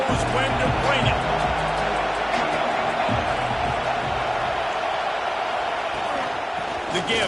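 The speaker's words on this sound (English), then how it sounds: "This crowd knows when to bring it." Stadium crowd noise from a college football video game, Tennessee Vols versus Washington, a dense continuous roar and cheer filling the background under steady play-by-play commentary.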